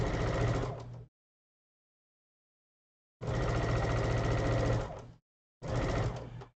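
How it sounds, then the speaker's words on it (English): A domestic sewing machine whirs in steady bursts: a run of about a second, a long pause, a longer run, then a short final burst, with no talking. "I am correct in thinking that it was domestic sewing machine."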